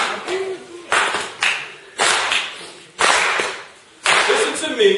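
An audience claps in rhythmic unison, with roughly five or six sharp clapping bursts in a steady pulse and a voice speaking between them.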